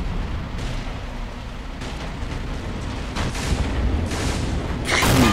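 Artillery fire from the Men of War: Assault Squad 2 game, a dense, loud rumble of booming shots and explosions that rolls on continuously and swells toward the end.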